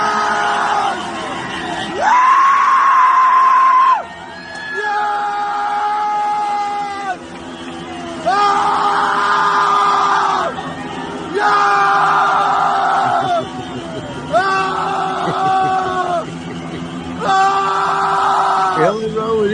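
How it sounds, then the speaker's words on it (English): A crowd in Iran shouts and screams in long, loud sustained waves of massed voices, several bursts rising and falling one after another, close and filling the scene. "I don't know if there's screams of joy or screams of pain."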